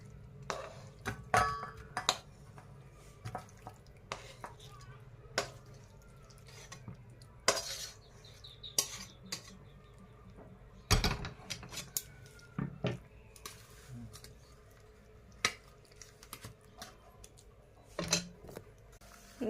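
Metal utensils clink and scrape against a pot as ghyat, a mashed vegetable dish, is taken off the stove, with scattered sharp taps and clatters in an irregular rhythm.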